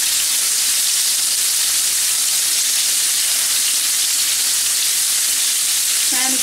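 Chicken pieces fry in oil, producing a loud, steady, dense crackling sizzle like heavy rain that runs unbroken and close throughout, with no talk.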